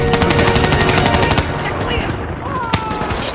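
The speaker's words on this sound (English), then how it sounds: "Give me some cover fire." Rapid automatic gunfire from the video game Black Ops 3, a loud, dense burst of shots that hammers steadily at first and then gives way to scattered cracks and battlefield noise.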